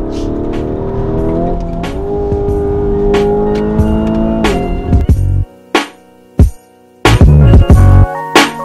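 A car engine accelerating up through the gears under sustained load, with rising harmonic whine, then abrupt cut-offs and bursts of revving and gaps of near silence, loud and close.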